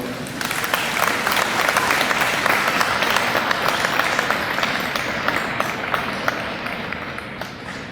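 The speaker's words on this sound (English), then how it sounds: "Turn around and applaud your family and friends and others that have supported you" Graduates at a spring technical college commencement ceremony applaud their families and friends, producing sustained, dense applause from a large crowd that stays loud and even throughout.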